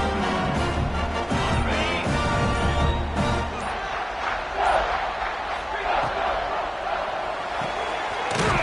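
A stadium crowd roars at a college football game against Oklahoma State, a dense, sustained wall of cheering that swells and holds steady throughout, loud and enveloping with no break.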